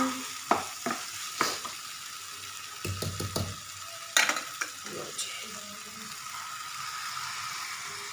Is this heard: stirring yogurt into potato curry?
yes